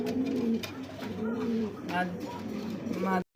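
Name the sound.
king pigeons cooing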